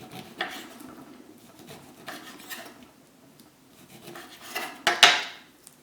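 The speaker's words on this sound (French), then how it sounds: "Maintenant, nous allons couper nos oranges à vif." A knife pares the skin and white pith off a whole orange, giving soft scraping and rasping strokes against the peel with a sharper clink of the blade on a dish near the end. No one speaks.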